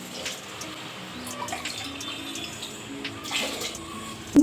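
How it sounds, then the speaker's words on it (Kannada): Water poured from a cup into a cooking pot of rice, a soft, continuous splashing trickle close by with a few faint clinks, no talking. "ಇನ್ನೂ 1 ಲೋಟ ನೀರನ್ನು ಇದಕ್ಕೆ ಆ್ಯಡ್ ಮಾಡೋಂಥದ್ದು"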